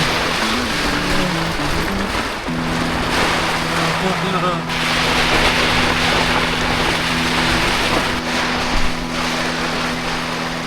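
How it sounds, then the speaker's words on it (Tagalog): Steady, dense roar of heavy rain and strong wind on Mt. Gulugod Baboy, Philippines, constant and loud, with a low engine-like hum underneath. "Lakas ng ulan, lakas ng hangin"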